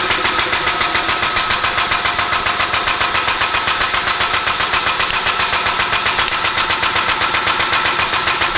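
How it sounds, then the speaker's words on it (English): A Redline RE75T-A air-hydraulic shop press pumps while flattening a Coke can, giving a fast, even mechanical pulsing that stays steady and fairly loud throughout. "let's see how flat we can make that Coke can"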